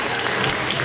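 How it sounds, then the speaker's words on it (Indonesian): Guests at a Chinese wedding reception applauding during a party game, a brief burst of dense, steady clapping. "Tepuk tangan dulu Bapak Ibu sekalian."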